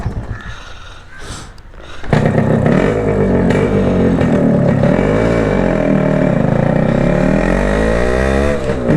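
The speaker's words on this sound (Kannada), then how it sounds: "ಸಿಕ್ಕಾಪಟ್ಟೆ ಸೌಂಡ್ ಮಾಡುತ್ತೆ ಗಾಡಿ." Yamaha RX Concorde two-stroke motorcycle revving hard, starting from an uneven idle and then bursting into a loud, sustained, wavering high-rev engine roar close by, with no voices.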